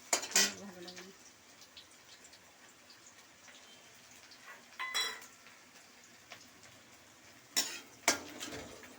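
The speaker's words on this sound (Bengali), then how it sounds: "পেঁয়াজটা হালকা ভাজা ভাজা হয়ে গেছে" Onions fry quietly in a pan with a faint, steady sizzle, broken by a few sharp clinks and scrapes of a utensil stirring against the pan.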